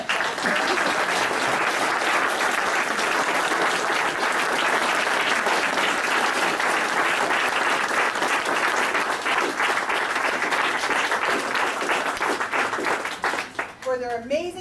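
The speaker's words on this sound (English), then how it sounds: "I would like to invite everybody to stand and give a great big round of applause for Dr. Jernigan" An audience at a veterinary practice's 50th anniversary celebration gives a loud, sustained round of applause, dense clapping rolling steadily for many seconds before thinning out at the end.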